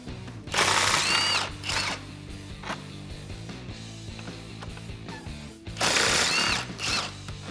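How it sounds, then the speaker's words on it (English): A power tool with a 10mm socket spins out 10mm bolts on the intake of a Jeep Gladiator JT 3.6L V6. Two loud, close whirring bursts play with quieter mechanical sounds between them. "There's 2 10mm bolts right at the front here. Grab a 10mm socket and get this removed."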